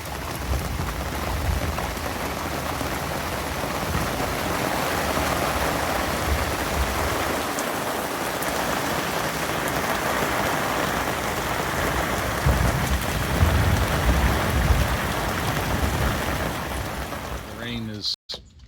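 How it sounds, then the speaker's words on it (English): Steady rain falls across a campsite at Huntsville State Park, a continuous broadband patter that stays fairly loud throughout, with a few clunks right at the end. "The rain is, I'm not going to say stop, but it's tapered way down."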